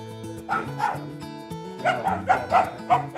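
Puppies bark and yip waiting to be fed rice mixed with minced meat: a run of high, close barks and whimpers in uneven bursts, loud and continuous through the moment.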